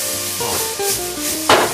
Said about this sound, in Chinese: 我们把葱放进来，煎煎它，葱爆个香气